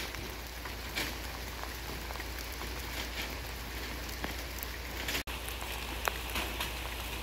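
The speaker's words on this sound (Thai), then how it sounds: "เสียดายฝนตก" Steady rain patters on a surface, a dense even hiss with scattered sharper drops, continuous and fairly close.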